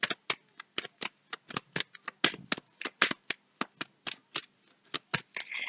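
Playing cards are laid down and covered on a table in a French card-reading session, making a quick series of crisp, close slaps and flicks at an irregular rhythm with no talk.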